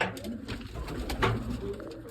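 Soft, low cooing of domestic pigeons in a breeding loft repeats in a steady, murmuring rhythm, close by, with light background rustle and no talking.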